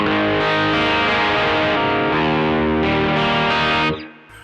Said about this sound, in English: slow, open sounding overdrive